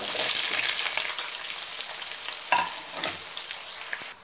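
Sliced onion sautés in oil with bay leaves, cinnamon pieces and black peppercorns, giving a continuous close sizzle with scattered spatula taps and scrapes and no voices.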